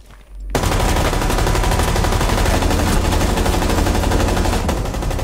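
A sustained, loud automatic weapon firing in Rainbow Six Siege, one continuous rapid stream of shots that begins abruptly after a brief quiet moment and runs unbroken to the end.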